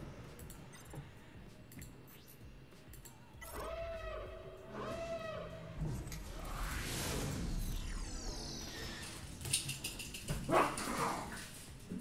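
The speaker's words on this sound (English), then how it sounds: "You got some active dogs in the background." Active dogs bark in the background, a few distinct yelps and whimpers in the middle followed by scuffling noise, all faint and distant in a quiet room.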